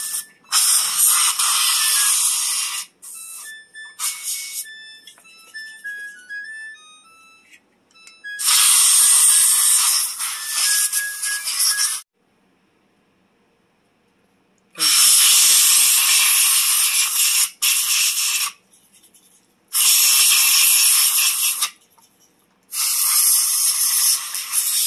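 Short blasts from a Dollar Tree compressed-air can blowing dust out of a smoke detector: loud, broad hissing bursts of a few seconds each, separated by silent gaps, with faint clicking and a brief beeping tone in between.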